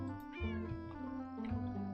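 A pet cat in the farming video game Farm Together meows several times in quick succession, clear and close over a soft musical background.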